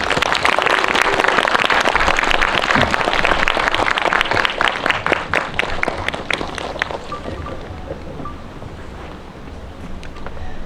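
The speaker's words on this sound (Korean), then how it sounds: "큰 박수로 환영해 주세요." Loud, dense audience applause fills the space as actress Jeon So-nee is welcomed onto the stage at a talk event, sustained for about ten seconds and gradually thinning toward the end.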